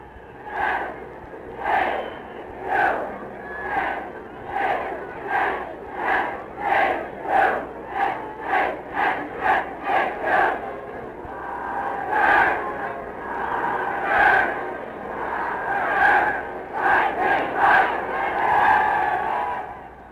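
Over 3,000 Princeton students in the stands at a football game chant an organized cheer in loud rhythmic bursts, quickening in pace and then swelling into a sustained roar.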